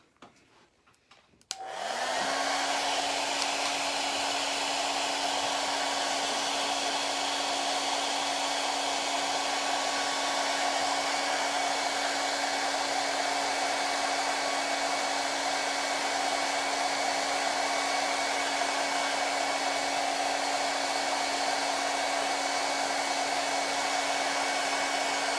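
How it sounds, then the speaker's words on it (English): Hair dryer switched on to dry paint on a buffalo plaid painting, clicking to life after a quiet moment and then blowing with a steady, loud whir for the rest of the time, with no talking. "let me take the hairdryer to that one real fast"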